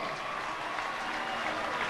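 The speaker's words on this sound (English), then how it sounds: "sous les applaudissements bien évidemment du public du Vélodrome" Velodrome crowd at the Paris-Roubaix cycling race finish applauding a third-placed rider, a steady dense wash of clapping that stays loud and even throughout.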